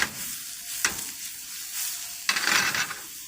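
Garlic frying in a pan gives a steady close sizzle, broken by a couple of brighter bursts as it is stirred and moved around, with no voices.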